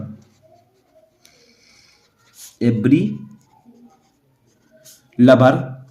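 Chalk or marker writing on a board during a Hindi-to-English translation lesson, making quiet scratchy strokes in short bursts between stretches of a teacher speaking.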